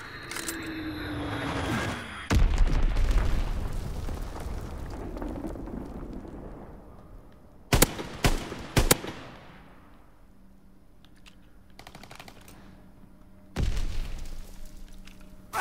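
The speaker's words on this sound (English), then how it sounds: "Fighter pilot inbound. Strafing the target." A World War II fighter plane's strafing run in Call of Duty: WWII: sharp bursts of gunfire and explosions crack out in loud clusters, then fade into a low distant rumble before another heavy blast.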